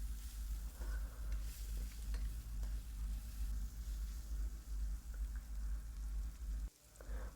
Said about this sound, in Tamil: வெங்காயம் வதங்கினோன்னே இஞ்சி பூண்டு பேஸ்ட்டு போட்டுருவோம்.